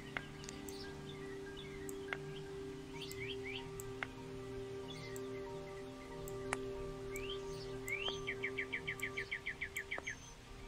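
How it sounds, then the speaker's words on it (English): Little birds chirp in the video game Autumn: scattered short chirps through the scene, then a quick run of repeated tweets near the end, all over a steady tonal background. "Little birds are chirping."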